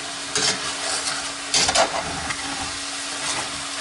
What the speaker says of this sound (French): Je gratte pendant que le vin blanc bout.